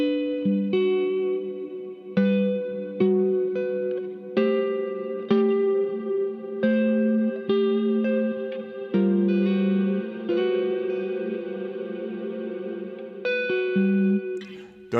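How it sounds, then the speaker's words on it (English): Guitar played through a Crazy Tube Circuits Mirage reverb pedal set to a hall with maxed decay, plucked chords ringing into long frozen sustain that layers and piles up; no talking. "Acts like a classic hall until you crank the decay to the max, and it freezes into endless sustain."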